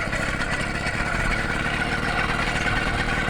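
A motorised bicycle's small engine catches after a pedal-assisted clutch drop and keeps running, a dense, steady close-up drone and rattle with no gaps across the whole stretch.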